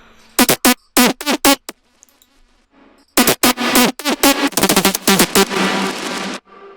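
Dry synth lead without reverb, played as short bright bursts: a quick run of stabs, a pause, then a denser phrase of plucked notes that ends abruptly, loud and close.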